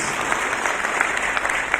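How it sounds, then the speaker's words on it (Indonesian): Church congregation in Ambon applauding for Jesus during a sermon: a dense, steady wash of many hands clapping at once, loud and continuous with no voices over it. "Beri tepuk tangan yang meriah bagi Yesus."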